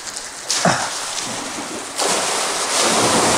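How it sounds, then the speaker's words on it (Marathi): Water from a 7.5 HP solar pump gushing out of a 3-inch pipe on a farm, a steady loud broadband rush that surges stronger partway through and keeps pouring without pause. "आता हा पंप या ठिकाणावर आपण ऑन केला आहे।"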